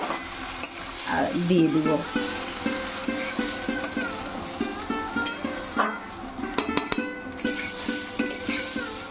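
Ingredients for khichuri fry and sizzle in a pan while being stirred, with steady crackling and repeated scraping strokes close by, and a voice speaks briefly near the end.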